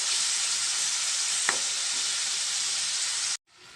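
Prawns with tomato and spice masala fry in a pan with a loud, continuous hissing sizzle close up, one small clink midway, and the sound cuts off abruptly near the end.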